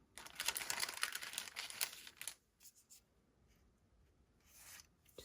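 Paper being fussy cut by hand, trimming designer series paper for a greeting card: a dense run of crisp snipping and rustling for about two seconds, then quieter sparse handling sounds and one brief final rustle.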